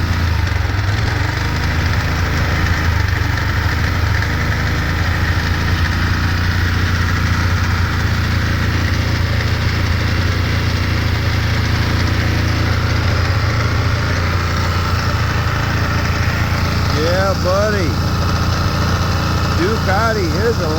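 A 2002 Ducati ST4s motorcycle engine idles steadily, a continuous loud throbbing rumble that holds even throughout, with faint voices surfacing near the end.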